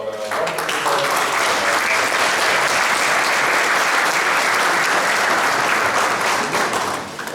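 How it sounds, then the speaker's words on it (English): Sustained applause from a sizable audience at a national conference at the University of Peshawar, steady and full throughout, tapering off slightly at the end. "let's give him a big applause"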